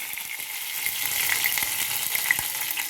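Mustard seeds, fenugreek and garlic sizzling in hot oil for garlic pepper rice, a steady bright crackle with scattered pops, close and continuous with no voices.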